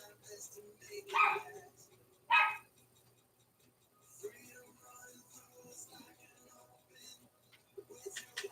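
Small chihuahua, one of four pet dogs in the background, giving two sharp high yaps a second apart, then faint scattered sounds with low background hum.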